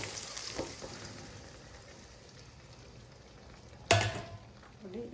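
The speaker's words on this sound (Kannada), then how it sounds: "ಸೊ ಇವಾಗ ನಾವು ರೆಡಿ ಮಾಡಿರುವಂತಹ ಮೊಟ್ಟೆನ ಹಾಕ್ಕೊಳ್ಳೋಣ." Beaten eggs poured into a hot pan over well-roasted, salted ingredients: a quiet background sizzle jumps into a sudden loud hiss as the egg hits the pan, then settles down.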